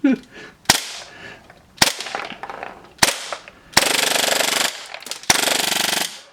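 A GSB Dragon 6-inch full-auto Hi-Capa airsoft pistol fired nearby, loud sharp snaps followed by longer rapid full-auto bursts, the rattling strings lasting about a second each.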